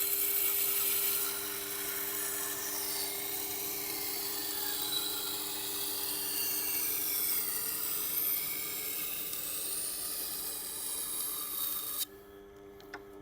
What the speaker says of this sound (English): Give it a couple of passes on each side because it's brand new to the grind.